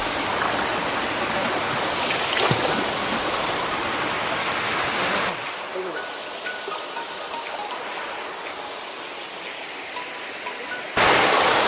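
Thusharagiri waterfall near Calicut roars as a loud, steady broadband rush of falling water, dipping to a softer hiss partway through before surging back to full strength, with no talk.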